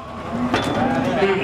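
Ongole cattle lowing at a cattle contest, a drawn-out moo rising over a noisy crowd with faint voices in the background.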